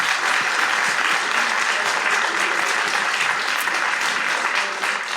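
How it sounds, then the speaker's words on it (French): A crowd at a live show at La Machine du Moulin Rouge breaks into dense, sustained applause, loud and continuous for several seconds with no clear speech. "On les applaudit."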